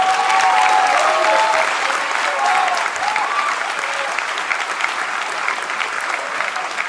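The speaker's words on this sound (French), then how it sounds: "Leur premier cabaret, on les applaudit." Steady, dense applause from a cabaret show audience at the end of the performance, loud and continuous with a few faint voices mixed in, easing slightly in the second half.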